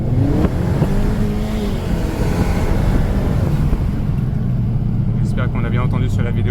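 A car engine rumbles steadily through a Ragazzon four-tip exhaust, heard from inside the car with the window opened, a continuous low drone that stays loud throughout with faint voices in the background.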